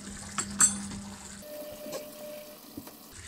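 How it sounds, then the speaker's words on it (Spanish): Water is poured into paella as it cooks in the pan, a brief soft splash and trickle over a low hum, followed by quiet kitchen clinks. "añadir un pelín más de agua."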